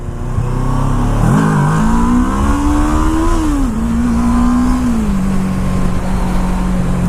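A Kawasaki Ninja 650R motorcycle revs hard for a clutch wheelie, the engine note jumping sharply, climbing and then settling into a loud, steady drone close by.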